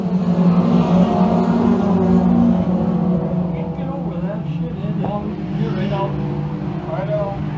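Thundercar race cars, a field of thirteen, roar on a short track for a feature race. Loud, dense engine noise builds, with several cars revving and accelerating together, while a voice speaks throughout.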